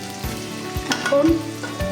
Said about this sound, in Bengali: পেঁয়াজটা ভালো মতো ভাজা ভাজা হয়ে গেছে।